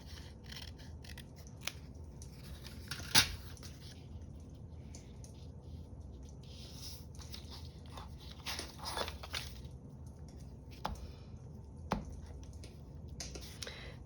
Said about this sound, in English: I'm not going to be able to tear it, so I'm just going to cut it